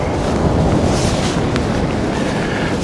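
Strong wind blowing steadily and loudly across the microphone at Aberlady Bay, a broad constant roar with no talk.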